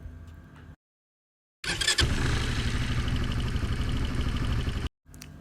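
A motorcycle engine starts after a brief silence, catching with a burst and settling into a loud, throbbing idle before cutting off abruptly.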